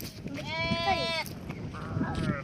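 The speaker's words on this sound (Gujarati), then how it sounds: "અમારી બાજુમાં છે ઘેટા અને બકરા." A sheep or goat in a flock of sheep and goats gives a loud, wavering bleat close by. Softer bleats and faint voices follow.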